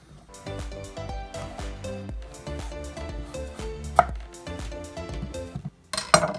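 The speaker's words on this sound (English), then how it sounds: "And that's how you peel a squash." A knife peels a squash in rhythmic strokes, a quick run of close, crisp cuts and taps against a hard surface, with a couple of louder knocks.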